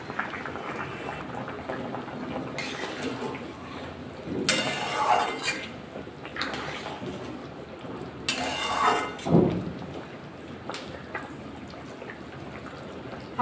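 Rohu fish curry with vegetables bubbles under a lid in a pan, a soft steady boil broken by a few louder bursts of hissing steam and light clinks of the cover.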